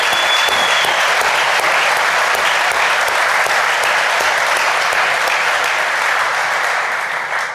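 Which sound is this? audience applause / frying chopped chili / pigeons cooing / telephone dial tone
audience applause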